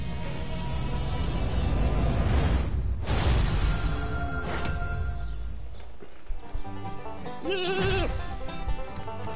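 Cartoonish sheep bleating in the Skylanders video game, a wavering bleat rising near the end over busy game music and effects, loud and close throughout.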